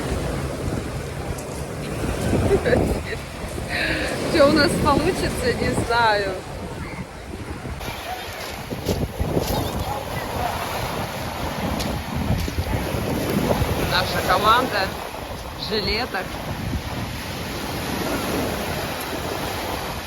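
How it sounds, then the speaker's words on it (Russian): Strong sea waves off Yevpatoria during a boat ride, heard as surging water and heavy wind gusts buffeting the microphone, with people talking over it. "И волны такие сильные начались."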